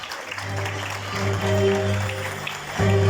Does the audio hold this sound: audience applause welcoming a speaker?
yes